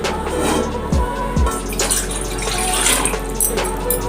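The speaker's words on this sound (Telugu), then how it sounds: "ఒక బౌల్లోనికి ఒక గ్లాసుడు వాటర్ పోసుకుని" A glass of water is poured into a bowl, giving a steady splashing trickle with a couple of low thumps, close and fairly loud, with no voices.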